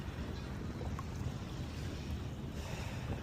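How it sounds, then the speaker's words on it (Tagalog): Steady wind roars and buffets the microphone outdoors while fishing from a Hobie Compass, with a constant rushing noise and no voices. "lumalakas na naman ang hangin"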